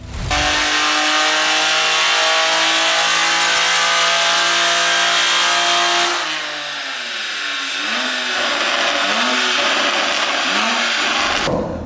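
A tuned BMW G80 M3 xDrive turbo engine roars loudly and steadily on a dyno, holding a high drone for about six seconds before the pitch dips and rises again in repeated surges as the throttle body closes under overboost.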